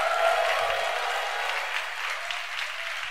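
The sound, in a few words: church congregation applause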